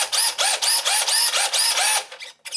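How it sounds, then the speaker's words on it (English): A 13-turn Crawlmaster motor in a scale RC Jeep Liberty KJ drives plastic Tamiya gears through a reduction unit, whirring close up in short repeated bursts as it runs back and forth, with no skipping or clicking. "as you can hear, there's no skipping of the gears. That's a 13-turn Crawlmaster going back and forth through a gear reduction unit."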